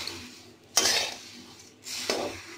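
Masala puffed rice being shaken and tossed in a metal vessel, two distinct rattling, scraping bursts with a pause between, close and moderately loud, no voices.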